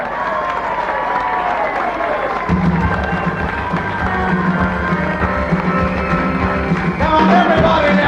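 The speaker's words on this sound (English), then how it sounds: "Everybody now, big round of applause for the living legends!" A rock show audience breaks into applause and cheering that swells after a couple of seconds into a dense, sustained roar of clapping and shouts, with a voice over the top.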